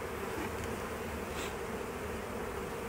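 A honeybee swarm being moved into its new hive in an apiary gives a dense, steady, close buzzing that fills the whole moment with no voices.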